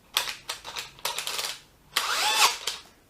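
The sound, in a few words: DeWalt DCD996 drill clutch clicking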